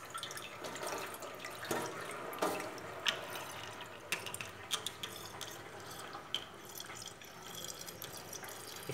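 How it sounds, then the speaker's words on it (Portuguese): Water draining and dripping off freshly washed bitter melon herbs, with irregular soft drips and small splashes over a faint trickle, close and quiet, no speech. "deixar escorrer essa água, a erva tá ali"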